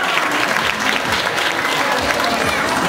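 A festival crowd at the Festival del Maíz in Pasaquina gives loud, sustained applause for the festival queen, dense clapping filling the space with steady intensity throughout.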